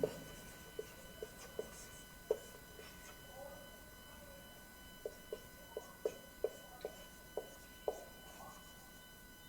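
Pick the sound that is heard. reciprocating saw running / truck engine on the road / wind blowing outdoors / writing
writing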